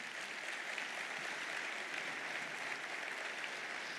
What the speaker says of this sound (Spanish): ¿Cuánto le da un aplauso al Señor por eso?